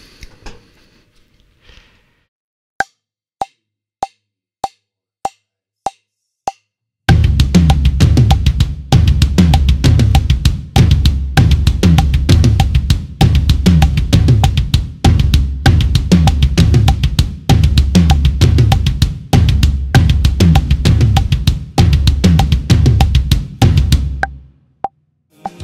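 A drum kit plays a kick and tom pattern. A few sparse, evenly spaced hits come first, then a dense, driving rhythm of kick, tom and cymbal hits runs loud and steady for most of the passage before stopping.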